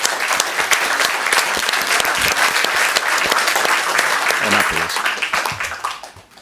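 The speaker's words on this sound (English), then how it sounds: "let's give one more round of applause for that" Applause from the audience at a Burbank Parks and Recreation Board meeting, a loud, sustained round of clapping with voices mixed in, tapering off near the end.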